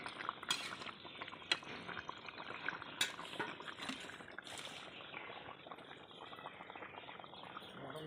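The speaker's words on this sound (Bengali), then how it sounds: "এই যে ধনে পাতা দিয়ে একটু ফুটিয়ে দেবো, একটু ঢাকা দিয়ে দেবো।" A covered pot of curry with coriander leaves simmering, a soft bubbling hiss underneath a few sharp metallic clinks of a lid or utensil, fairly quiet.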